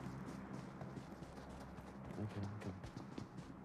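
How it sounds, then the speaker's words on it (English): Footsteps of an approaching player in PUBG Mobile, a run of quick, muffled thuds in a steady rhythm with a low rumble beneath, growing slightly louder toward the end as the player draws nearer. "Wait, I hear footsteps here on me."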